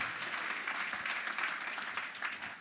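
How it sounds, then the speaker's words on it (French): Audience applause at an award ceremony during a business seminar, a steady wash of many hands clapping at moderate, fairly distant volume with no talk over it. "On les applaudit."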